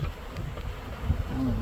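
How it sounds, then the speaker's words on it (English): Foraging honeybees near their hives give a faint, steady buzz over soft low background rumble, with one bee droning closer near the end. "since we have a lot of bees foraging right now out, we want to put this back over where the hives are."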